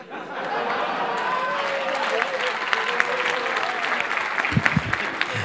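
A live comedy audience bursts into loud sustained applause after a stand-up joke, dense clapping mixed with scattered laughter and crowd murmur, swelling slightly toward the end.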